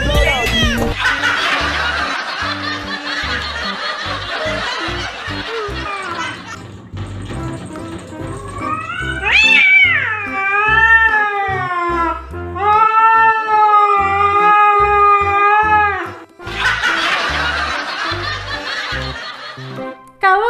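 An angry cat that is being kept from going outside yowls and meows in long, drawn-out, wavering cries. Human laughter and chatter surround the cat's calls, and the animal sounds close and loud.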